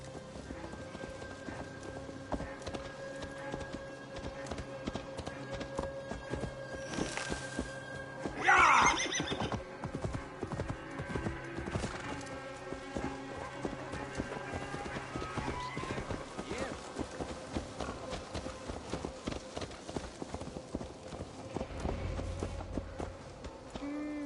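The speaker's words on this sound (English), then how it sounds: "Let's return the horse." In Assassin's Creed Valhalla, a horse's hooves clop steadily at a walking pace, with a loud neigh partway through, layered over game music and character dialogue.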